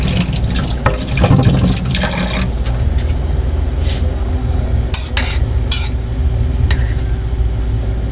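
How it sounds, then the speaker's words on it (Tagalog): Dorado fish cooking in a pot of boiling water for sinigang, a steady loud bubbling simmer with occasional clinks and stirring scrapes of a utensil against the pot. "hayaan lang po natin siyang maluto dyan po sa kumukulong tubig"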